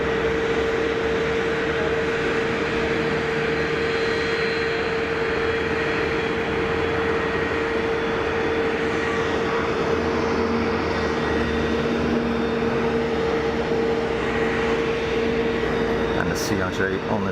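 A Cessna Citation jet at Geneva Airport gives off a steady, loud, broad jet roar with a constant whining tone, holding evenly for the whole stretch without clear peaks.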